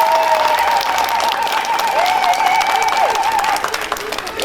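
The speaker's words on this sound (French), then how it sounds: "vous devez vraiment faire un applaudissement gigantesque." At a French street-arts performance, a crowd claps loudly and continuously, with faint cheering and a voice heard over the applause.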